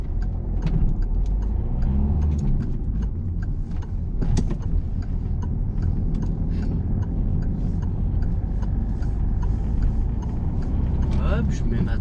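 A manual car's engine hums and rumbles close up while the driver gently shifts into third, brakes smoothly and drops to second, with small mechanical clicks and someone talking steadily over it.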